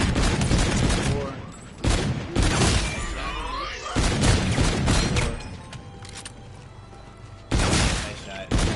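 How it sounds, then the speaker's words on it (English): Rapid gunfire bursts from a zombies-mode video game crack out in repeated volleys, loud and close, with quieter gaps between them and game sound effects alongside. "you could get more shots into the zombie and then shoot the head to maximize even more"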